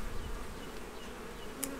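Honeybees buzz steadily at an open hive under inspection, a continuous close hum with no talking.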